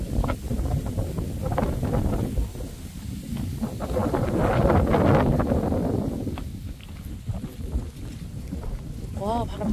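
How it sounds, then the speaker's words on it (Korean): Strong wind gusts over a lakeside walking trail at Busodamak in Okcheon, rumbling and buffeting close against the microphone while people talk nearby. "와, 바람 많이 분다."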